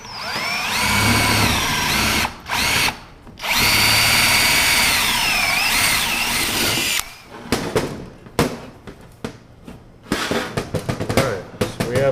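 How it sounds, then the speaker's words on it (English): A power drill bores through the sheet metal of a custom chopper seat pan, letting out loud, close, high whines in long bursts broken by short pauses, followed by quieter clattery handling of parts. "every single time you drill through and it kind of lifts up and separates those two pieces of sheet metal on there"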